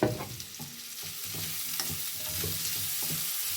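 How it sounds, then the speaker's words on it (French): Onions and peppers sauté in oil fragrant with chili, ginger and garlic for chilly prawns, a soft continuous sizzle broken by repeated gentle stirring scrapes. "mes oignons et mes poivrons et je les fais sauter"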